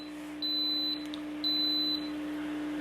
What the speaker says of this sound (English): It's one thing I don't like about my Instapot is every button beeps